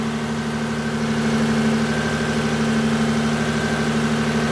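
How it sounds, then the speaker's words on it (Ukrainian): A Toyota Camry 30 engine with gas equipment idles evenly on petrol with a steady low hum and faint vibrating buzz, continuous and close, with no voices. "Так, двигун працює на бензині."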